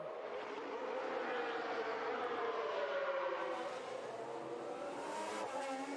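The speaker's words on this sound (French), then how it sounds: "La difficile extraction du virage 17 ici et la réaccélération" Formula 1 car re-accelerating out of turn 17 at the Miami Grand Prix during qualifying, a loud, continuous high-pitched engine whine rising steadily as it powers away.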